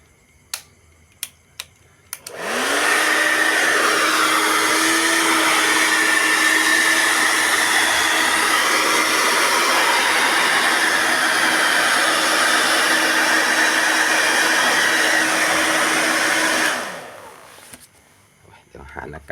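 Air blasts dust out of an Arcam AVR300 AV amplifier in one loud, steady hiss lasting about fourteen seconds, preceded by a few sharp clicks and ending abruptly.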